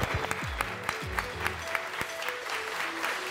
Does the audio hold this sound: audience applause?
yes